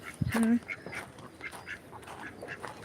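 A brief loud quack near the start, followed by scattered faint bird calls and chatter over a soft background.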